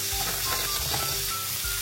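Flour-coated pieces of tongkol tuna fry in hot oil, giving a steady close sizzle with faint scraping and clinking beneath it and no talk.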